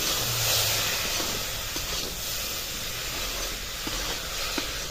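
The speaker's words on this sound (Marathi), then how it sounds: "हे वाटाणे असे घालून घ्यायचे आणि परतून घ्यायचे ह्या फोडणी बरोबर" Green peas are sautéed in a hot tempering, producing a continuous hiss and sizzle throughout, with a few faint clinks from the pan and slight swells in loudness.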